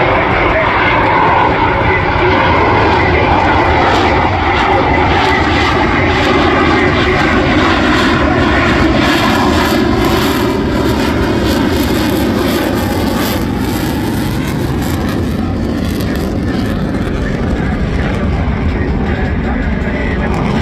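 A section of Super Hornet jets, eight engines in all, makes a high alpha pass at an air show at Spirit of St. Louis Airport, a loud, sustained jet roar that fills the whole stretch, with a voice faintly beneath.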